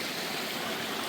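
A short burst of steady rushing water from a mountain stream on the Kumara Parvatha trek, a close, even hiss of flowing water with no voices.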